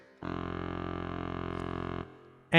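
A frame guitar run through a guitar synthesizer imitates a baritone saxophone, holding one steady, reedy sustained note for nearly two seconds before cutting off, followed by a brief louder attack at the end.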